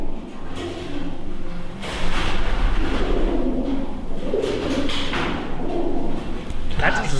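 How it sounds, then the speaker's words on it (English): Pigeons coo softly amid a busy, noisy background, with occasional thumps and rustling. "Is that the sound of like pigeons?"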